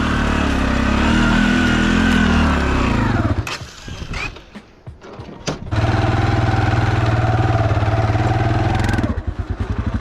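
Custom extreme-duty six-wheeled Honda 300 ATV engine straining up a hill, loud close revving, then a brief drop and sputter before the motor roars back steadily and ends in chugging pulses.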